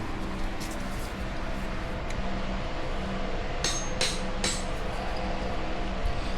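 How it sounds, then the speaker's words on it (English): A few sharp metallic hammer strikes ring out on a ball punch, driving out a stuck bolt on a dirt bike, spaced unevenly over a steady background hum. "That bolt doesn't want to come out, so to the hammer and chisel"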